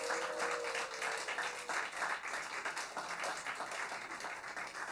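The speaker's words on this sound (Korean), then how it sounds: "다시 한번 뜨거운 박수 부탁드리겠습니다" Warm audience applause at a traditional Korean music concert, filling the space, continuous dense clapping at a fairly even level.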